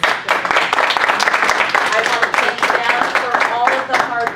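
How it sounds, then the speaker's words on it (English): At a public hearing, the room gives a round of applause, many hands clapping fairly loudly and steadily, with voices mixed in under the clapping. "if we could give the team a round of applause"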